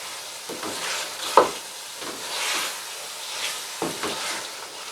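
Chicken pieces with spices roasting in oil in a karahi for a white karahi, giving a steady close sizzle and hiss with a few sharper stirring scrapes and clatters.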